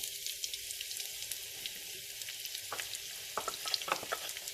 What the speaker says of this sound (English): whilst that is frying, I will be adding in 2 small chopped onions